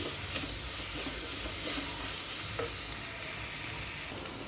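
Small onions fry in a pan with a soft, continuous sizzle and crackle. The sound is faint but steady and heard alone, with an occasional light stir.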